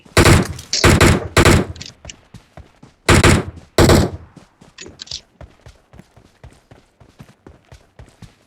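Loud bursts of gunfire in the mobile battle-royale game PUBG Mobile, with several heavy volleys around the start and again near three to four seconds, then lighter scattered shots trailing off.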